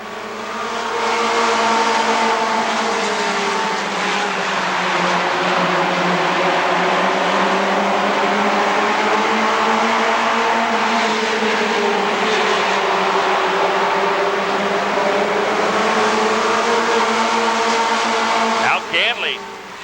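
Race cars roar past at Rockford Speedway, engine notes rising and falling in a loud, continuous drone as the pack circles the oval, with an announcer talking over the racing.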